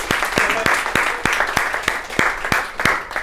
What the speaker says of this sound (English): We gave a round of applause to Burritoville